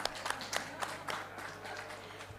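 An audience at a public dialogue forum claps briefly, a faint patter of scattered hand claps rising and thinning out within a couple of seconds.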